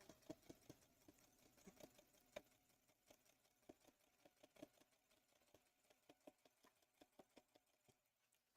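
A sewing machine stitches quilt pieces in short, sparse bursts of needle taps with quiet gaps between, ending in a sudden loud clunk.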